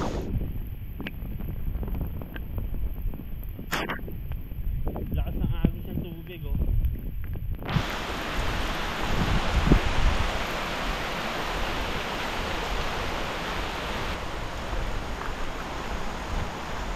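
Heavy rain pours down on a solo campsite, a dense, steady hiss that fills most of the clip and is interrupted early by a few seconds of muffled shelter sounds and handling noise.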